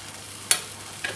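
Okra frying in a pan as chopped onion is tipped in: a low steady sizzle with one sharp, bright rustling burst as the onion lands, then a smaller second clatter, no voices.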